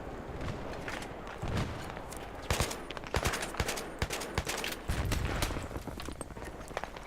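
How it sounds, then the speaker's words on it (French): Dense bursts of gunfire from the video game Battlefield 3, with rapid automatic volleys and sharp cracks, loud throughout and with no clear talk. "Donc là je tire n'importe comment."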